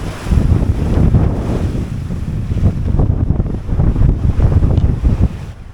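Loud wind buffeting and crashing ocean waves surround a 21ft home-built sailboat on an Atlantic ocean passage in rough seas, a continuous roaring wash of surf and gusts with no voices.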